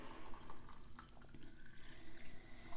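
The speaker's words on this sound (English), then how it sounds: "And then we'll add the rest of the water here" Water pours and splashes into a homemade pumpkin spice foaming hand wash mixture, a steady close running and trickling sound with small drips, heard alone without voices.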